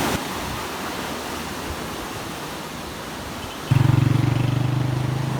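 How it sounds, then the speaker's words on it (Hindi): Water gushes under high pressure from a pipe in a village near Sargodha, Pakistan: a loud, steady broadband roar that suddenly thickens partway through with a heavier low rumble, with no talking. "ये यार पानी आप देखें कैसे प्रेशर से आ रहा है पानी"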